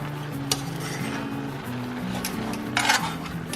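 Egg roll in a bowl ingredients, seasoned with oyster sauce, salt, pepper and sugar, are stirred in a pan, with quiet scraping and a couple of sharp utensil clinks over background music.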